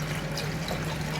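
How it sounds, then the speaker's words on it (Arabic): A kilo of milk pours into a pot on a stove in a home kitchen, a brief, steady liquid rush heard up close and alone. "احنا بس هنفضي كيلو الحليب بتاعنا"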